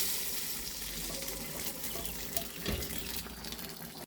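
Fried spice tempering is poured into a pot of khichuri, giving a steady, hissing sizzle throughout, close and fairly quiet, with a slight surge partway through.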